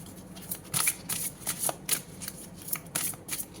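A deck of oracle cards being shuffled in a series of quick riffling bursts, close and fairly quiet, with brief pauses between the rustling passes.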